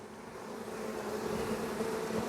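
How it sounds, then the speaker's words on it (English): Honey bees buzz on a crowded hive frame, a dense, steady drone close to the ear that holds at the same level throughout, with no voices. "look at that frame of bees. Jam-packed."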